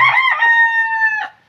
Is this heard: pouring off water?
no